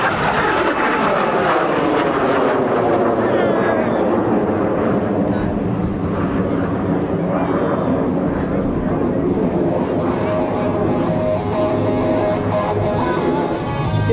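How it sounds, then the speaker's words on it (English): An Alpha Jet trainer roars at full power in an airshow pass, a loud, sustained jet engine sound filling the whole stretch with a slowly shifting pitch as it passes, with a commentator talking over it. "And the full power Alpha jet."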